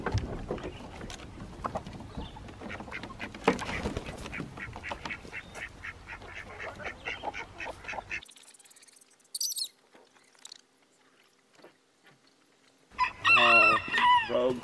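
Farm chickens cluck and a rooster crows, the birds busy and overlapping at first, then a quiet gap broken by brief calls before a loud burst of crowing and clucking at the end.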